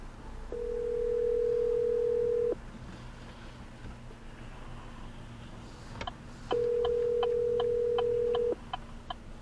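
Telephone call ringing unanswered: two long, steady electronic ring tones heard close, each lasting about two seconds, separated by a pause filled with faint clicking and low line hiss.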